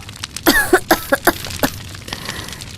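A woman coughs from smoke several times in a quick, uneven series of harsh bursts, close and fairly loud.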